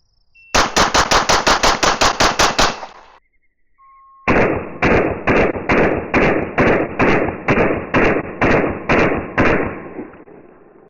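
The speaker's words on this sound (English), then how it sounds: "Full speed mag dump on a target, and then we'll take a look at the target" A CZ75 open-class pistol fired in two rapid full-speed magazine dumps at a target, about ten loud sharp shots in each string with a short pause between them.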